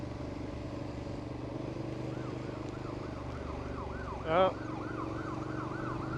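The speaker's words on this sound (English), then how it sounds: "Ambulance." Ambulance siren wailing in a rising and falling pattern through traffic, heard from a Ducati Multistrada 1200 in stormy weather over a steady engine and road drone, with a brief horn-like blast midway and a short spoken exclamation.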